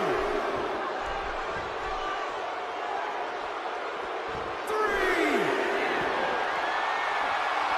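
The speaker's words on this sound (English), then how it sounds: "by the sound of this crowd, I think they're getting what they wanted." Wrestling arena crowd in the WWE 2K16 video game, a dense, steady roar of spectators that swells louder partway through, with a commentator speaking over it.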